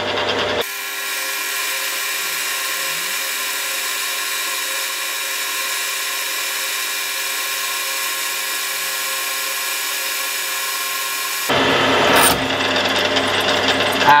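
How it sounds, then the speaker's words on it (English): A steady, high-pitched mechanical drilling whine runs unbroken for about eleven seconds while drilling a hole in a cast iron tool post for a Warco WM180 lathe, followed by a louder burst of machine noise. "So I need to drill this hole."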